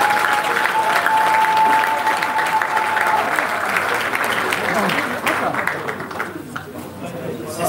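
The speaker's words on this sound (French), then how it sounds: "je vous invite à applaudir très fort." An audience at a Congolese political gathering presenting a left-wing coalition bursts into loud, sustained applause, a dense crowd clapping that carries on for several seconds before gradually thinning and fading toward the end.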